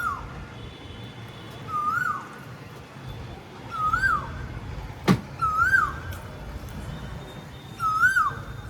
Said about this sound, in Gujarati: આ લીમડામાં બેઠી છે કોયલ.